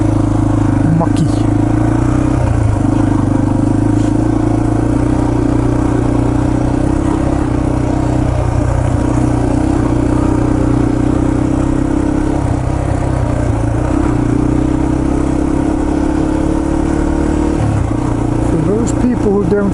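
A Yamaha TT-R230 dirt bike rides a muddy, recently graded trail, its engine droning close and continuously with small rises and dips in revs and some clatter, while a voice talks over it.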